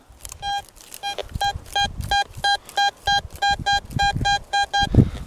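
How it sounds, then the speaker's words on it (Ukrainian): A Garrett AT Gold metal detector emits a regular series of short, high electronic beeps, repeating rhythmically about twice a second over faint rustling and footsteps. "Значить, отак пікає."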